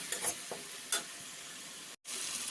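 Masala with cumin powder being stirred and fried for prawn and taro greens until the oil separates, a quiet, steady sizzle with a few faint stirring scrapes and a brief cut near two seconds.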